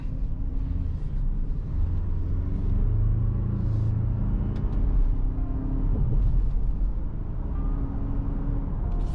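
A 2021 Ford Ranger pickup pulls out onto a main street, its engine a steady low rumble with road and tyre noise from inside the cab, rising slightly mid-drive.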